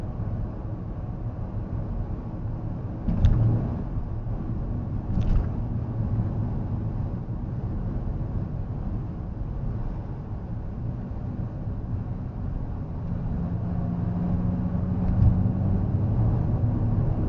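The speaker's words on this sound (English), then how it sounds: "I do hear tire roar." Steady low road roar from tires inside a moving car, constant and broad, with a couple of faint brief clicks over it.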